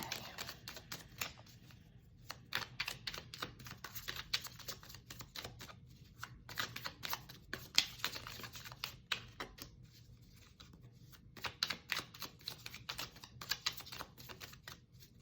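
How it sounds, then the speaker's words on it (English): Quiet, rapid clicking and flicking of tarot cards being shuffled up close, coming in bursts with brief pauses, no voices. "Do you like the sound of the shuffling cards?"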